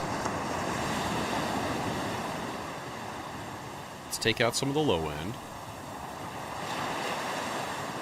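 A Eurorack modular synthesizer drone rolls and hisses like ocean surf, a steady, washing noise that swells and recedes, with someone briefly speaking over it midway.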